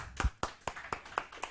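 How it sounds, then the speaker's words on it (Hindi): Six crisp, evenly spaced hand claps ring out in a quick rhythm inside a classroom at a civil services coaching session, close and fairly loud with no talk. "बस बस बस बस, ताली हो जाए।"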